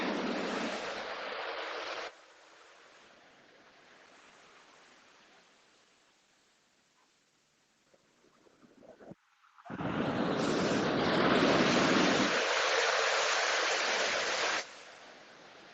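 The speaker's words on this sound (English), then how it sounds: "Looks like a big wave coming." Sea waves break on the beach at Eyemouth, a loud rushing surge that fades to a soft hiss, then another heavy crash of surf roaring near and close.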